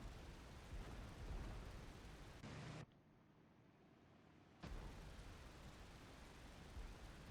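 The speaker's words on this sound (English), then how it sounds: "Hearing explosions." Explosions and engine rumble in an IL-2 Great Battles flight sim over Moscow: a steady, dense roar that drops out abruptly into a quieter muffled stretch, then returns just as loud, with no talking.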